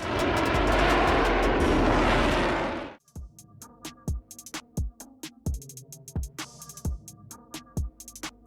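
An airplane pulling high-G manoeuvres gives a loud, rushing roar for about three seconds that cuts off abruptly, followed by punchy rhythmic beats.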